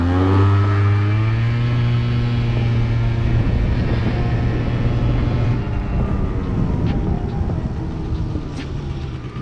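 Liquid-cooled Yamaha Zuma YW50 scooter engine while riding, a loud steady drone with a strong low hum and rising buzzy harmonics, continuous close engine noise that settles slightly in the final seconds.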